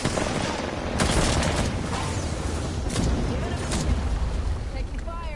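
Rapid bursts of gunfire and mechanical clatter in a PS4 shooter, loud and close, with a voice speaking over the action.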